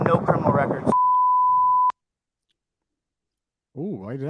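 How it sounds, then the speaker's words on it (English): A censor beep over police bodycam footage: a single steady tone of about one second cuts off speech, then ends abruptly with a click, leaving silence before talking resumes. "why did that get beeped out?"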